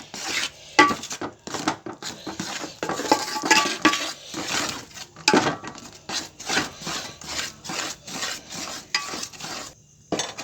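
Flour mixture for ariselu being stirred in a vessel as liquid is poured in, a series of close, uneven scraping and rubbing strokes with rhythmic bursts and brief pauses, no talking.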